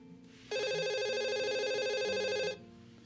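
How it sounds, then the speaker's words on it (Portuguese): A telephone rings for a live phone-in call on a Catholic radio-style program, a steady electronic ring holding for about two seconds, clear and close over a faint background. "Vamos atender ligeiro a Regina e a Lucinéia, porque esse bloco é menorzinho que os outros"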